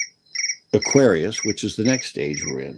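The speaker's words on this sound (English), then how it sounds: "Sorry about my crickets." A phone notification set to a cricket-chirp tone gives short, loud, high trilling bursts near the start and keeps chirping under a person talking.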